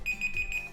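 A timer alarm beeps in a steady high electronic tone with a quick repeating pulse, close and clear, lasting under a second.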